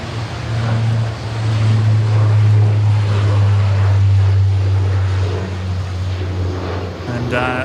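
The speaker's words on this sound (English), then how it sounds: "we've got the Dash 8 rolling here, I think. Runway 16 right" A Dash 8 turboprop airliner takes off from runway 16 right at Sydney Airport, giving a loud, steady low engine drone and rushing roar that holds throughout, heard from a distance with people talking over it.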